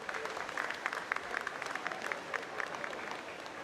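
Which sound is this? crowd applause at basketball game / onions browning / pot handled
crowd applause at basketball game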